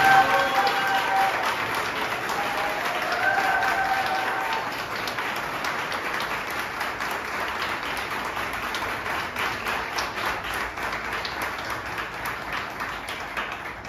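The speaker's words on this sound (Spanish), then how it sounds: "Quiero que le demos un fuerte aplauso de bienvenida, Pablo." Sustained applause from a seated conference audience welcoming speaker Pablo Muñoz, a dense steady wash of many hands clapping that starts loud and slowly thins, with faint voices near the start.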